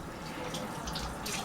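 Warm water runs from a kitchen tap while cupcakes are being made, a soft, steady stream with faint splashing, quiet and close, with no voices.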